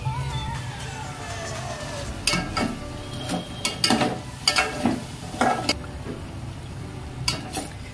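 Soyabean chaap fries in a pan with a steady low sizzle, while a utensil clinks and scrapes against the metal in a series of sharp taps and stirs that start about two seconds in.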